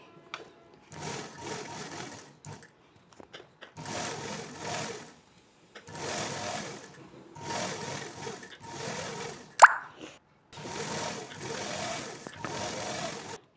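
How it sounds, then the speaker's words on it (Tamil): A sewing machine runs a seam around the bottom border of a garment in repeated bursts of steady whirring about a second or two long, separated by short pauses, close and moderately loud. "கீழே பார்டர்லேருந்து ஆரம்பித்து அப்படியே சுற்றி வர ஒரு தையல் போட்டுட்டு வந்துடலாங்க"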